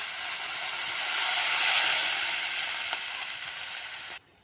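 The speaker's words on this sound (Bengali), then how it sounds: "বন্ধুরা মশলা থেকে তেল ছেড়ে দিয়েছে, এবার আমি দিয়ে দিব জল।" Water poured into frying spice paste for rohu fish kalia sets off a loud, hissing sizzle that swells, peaks, then slowly settles, with a short knock at the very end and no speech.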